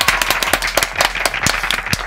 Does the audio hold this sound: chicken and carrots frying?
no